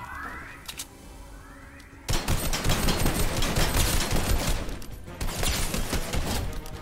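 Minigun in Fortnite spins up with rising whirs, then unleashes a loud, sustained stream of rapid-fire shots, briefly pausing before the barrage resumes.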